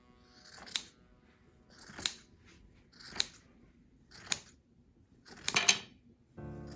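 Scissors cut a woven blanket off a rigid heddle loom in five distinct, evenly spaced snips, each a crisp close-up slicing crunch, with quiet in between.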